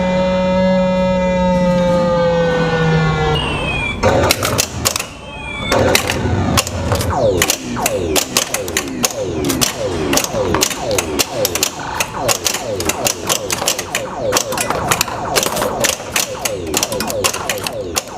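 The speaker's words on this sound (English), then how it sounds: "This button right here activates the MagnaSave." Pinball machine with a MagnaSave magnet feature: rising and falling electronic tones give way to rapid mechanical clicks, ratcheting and busy clattering chimes, loud and close throughout.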